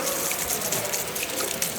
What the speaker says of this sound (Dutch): en dan moet je het water laten lopen